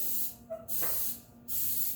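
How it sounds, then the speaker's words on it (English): Two short bursts of cooking spray hiss close by onto a pan over a sink, separated by a small clink and a brief pause. "when you spray cooking spray on a pan, don't do this"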